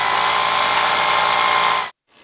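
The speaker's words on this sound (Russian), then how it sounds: "Завидев нашу камеру, мужчины включили перфоратор, создавая иллюзию бурной деятельности." Workers on a bridge run a rotary hammer drill in one steady, loud, close hammering whirr that cuts off abruptly near the end, followed by a faint trailing noise.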